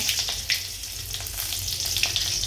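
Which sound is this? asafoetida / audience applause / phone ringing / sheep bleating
asafoetida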